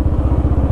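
A 50-year-old Royal Enfield Bullet 350 motorcycle engine runs close by, a loud, steady low thumping beat with even pulses, with no talk over it.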